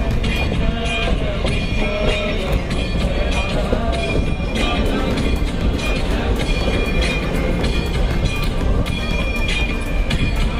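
A train rumbles loudly and continuously at Khed station, with rattling wheels and metallic screeches, while a busy crowd murmurs around it.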